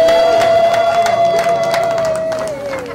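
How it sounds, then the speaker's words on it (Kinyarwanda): Guests at a Rwandan wedding celebration cheer and clap, with a sustained high ululating tone riding over lively crowd noise that gradually fades. "tumukomere amashyi"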